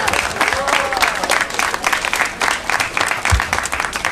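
Dense, sustained applause from an audience at a community center dedication during a Unity Day neighborhood event, loud and close for the whole stretch with a few voices mixed into the crowd noise.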